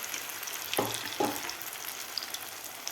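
Potato vada deep frying in oil, a soft steady sizzle broken by two sharp clattering knocks early on, with faint crackles and no speech.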